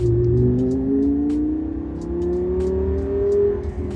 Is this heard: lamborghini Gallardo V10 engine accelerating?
yes